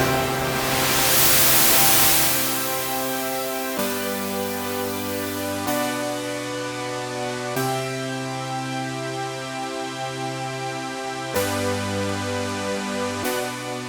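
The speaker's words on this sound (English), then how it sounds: "we'll open the filter frequency a bit on this one and add some white noise" Sustained synthesizer chords change every couple of seconds, with a hiss of white noise that is strongest at the start and fades beneath the tones.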